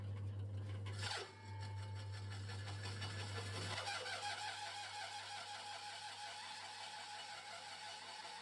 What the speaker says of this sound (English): I just deburred it a little bit here with a file.